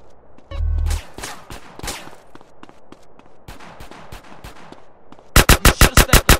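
Rapid gunfire from the video game GTA San Andreas: scattered loud shots crackle throughout, and a fast, evenly spaced burst of automatic fire closes the sequence, with no voices.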